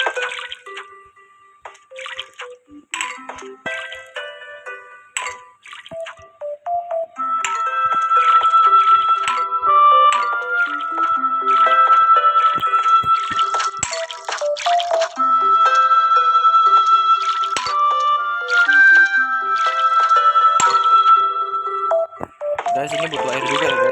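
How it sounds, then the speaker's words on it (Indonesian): Cartoonish watering sound effects from the Plants vs Zombies video game, a run of bright chiming, splashing tones and little drips over background game music, with a person talking through it. "Kita siram-siram dulu."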